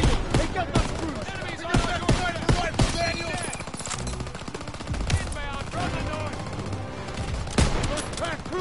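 Dense World War II battle fire from a first-person shooter during Operation Cobra, with machine guns and rifles banging in rapid overlapping bursts amid shouted voices and music, loud and continuous throughout.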